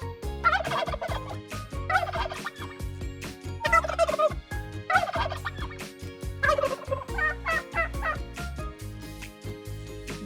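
A turkey gobbles repeatedly in quick rattling bursts, several calls spaced a second or two apart over a steady background.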